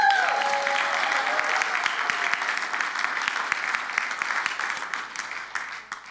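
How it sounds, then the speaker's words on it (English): Church congregation at a Sunday service gives sustained applause, a thick even wash of many hands clapping that slowly tapers toward the end, with no one speaking over it. "Now you can clap."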